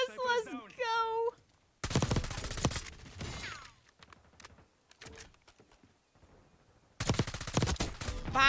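Rapid automatic gunfire from an Iron Crusader bundle gun in a shooter video game, two loud sustained bursts separated by quieter scattered shots, with a person speaking in between.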